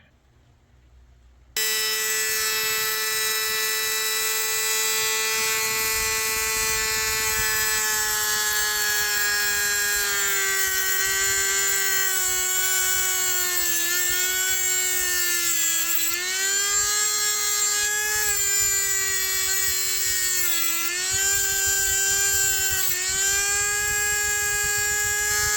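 Lumbar support motor in a 2014 Toyota Highlander seat whirring steadily, a loud close electric whine with slight pitch dips as it strains, running continuously after a brief quiet start.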